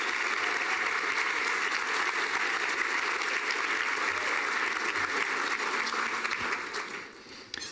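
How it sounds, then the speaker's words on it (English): Audience applause at a Boys and Girls Club awards event: dense, sustained clapping from a crowd that holds steady for about seven seconds before trailing off at the end. "we'd like to give you a round of applause"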